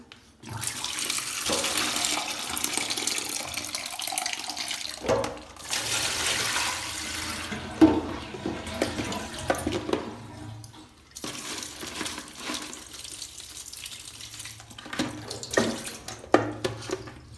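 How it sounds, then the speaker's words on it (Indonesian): Rosella flowers are rinsed over and over under running tap water, steady close splashing in long bursts separated by short pauses, with occasional knocks and handling sounds. "Bilas sampai berkali-kali supaya kotorannya hilang."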